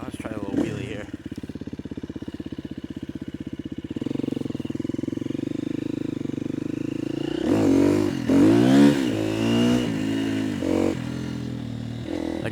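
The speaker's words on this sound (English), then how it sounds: "Yeah, see, tires are just spinning right there." KTM 250 EXC-F motorcycle engine droning steadily at close range, then revving harder with rising pitch as the rear tire spins, the engine note loud and unbroken throughout.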